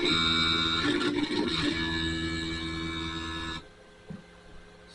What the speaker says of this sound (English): Instead, you're going to hear some funky grinding noise, and it'll stop right there.